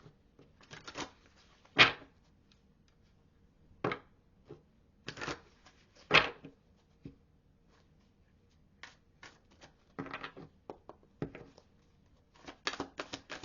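Tarot cards shuffled and drawn, heard as scattered short riffling and snapping bursts close by, separated by quiet pauses, with no talk.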